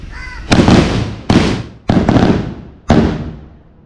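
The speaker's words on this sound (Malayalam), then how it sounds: "ഇവിടെ വെടി വഴിപാട് നടത്തുന്നുണ്ട്" Four sharp firecracker blasts go off one after another at Uthralikkavu temple, Thrissur, each loud and close with a rumbling decay, spaced about a second apart.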